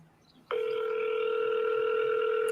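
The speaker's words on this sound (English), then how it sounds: "This keeps ringing." A telephone rings out on an outgoing call, a steady loud electronic ring tone that starts abruptly and holds continuously.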